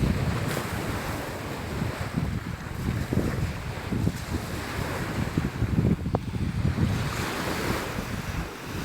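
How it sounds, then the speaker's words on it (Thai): Strong sea waves roll onto the small beach of Hat Krathing Lai in the evening, a continuous loud surf wash with gusts of wind buffeting the microphone and no voices. "ตอนนี้คลื่นแรงมาก"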